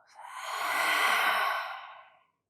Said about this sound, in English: Inhale deeply through the nose. Exhale by the mouth.